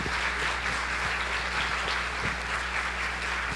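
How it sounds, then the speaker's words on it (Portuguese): A church congregation at a thanksgiving service applauds in praise, a continuous wash of clapping hands over a steady low hum, with a few sharper individual claps standing out. "uma salva de palmas ao Senhor pela vida dele"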